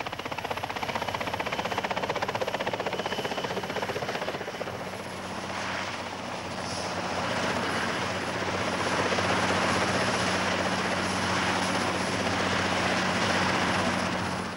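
A helicopter drones steadily throughout, a loud continuous rotor and engine roar with no pauses, sounding close by.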